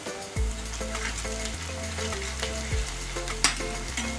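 Green chillies and whole spices such as cloves and black pepper sizzle steadily in hot oil while being stirred for mutton kheema, with a continuous crackling fry, occasional spoon scrapes and a low hum underneath.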